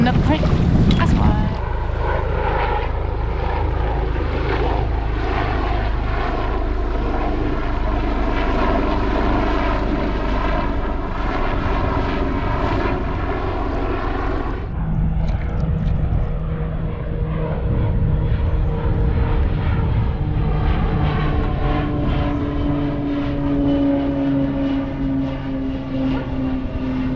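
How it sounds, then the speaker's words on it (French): A propeller aircraft drones loudly overhead, a steady engine roar that shifts in pitch partway through as it passes, with speech mixed into the noise. "Un avion là"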